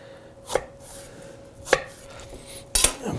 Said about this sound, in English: And we just cut these into wedges.